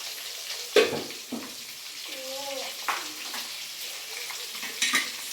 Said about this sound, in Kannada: ಎಲ್ಲ ಒಂದು ಸ್ವಲ್ಪ ಗೋಲ್ಡನ್ ಬ್ರೌನ್ ಕಲರ್ಗೆ ಬರೋ ತನಕ ಚೆನ್ನಾಗಿ ಫ್ರೈ ಮಾಡ್ಕೊಂಡ್ರೇನ.